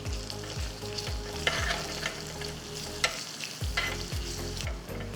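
Curry leaves hit hot oil in a tempering for South Indian curd vadai, with green and red chillies and asafoetida, and crackle in a steady, lively sizzle, close up and without speech.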